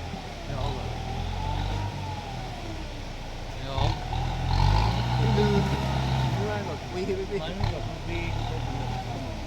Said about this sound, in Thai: รถไถกับเคลื่อนสี่ล้อก็ยังเอาไม่อยู่นะครับ